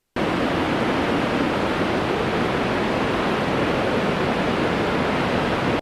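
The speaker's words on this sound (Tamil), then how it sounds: "தென்காசி மாவட்டம் குற்றால அருவிகளில் தண்ணீர் ஆர்ப்பரித்து விழுவதால்" Water roaring down the Courtallam waterfalls in Tenkasi district, a loud, dense, unbroken rush of falling water that holds steady from start to end.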